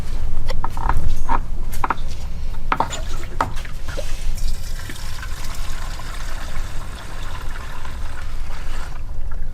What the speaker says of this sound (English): I'll do this 32 to 1 and add just like a splash of two-stroke mix